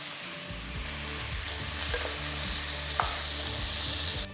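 Chopped tomatoes and ginger-garlic paste sizzle loudly in a pan as a spoon stirs them, with a steady dense frying hiss, up close and continuous, and one sharp utensil tap.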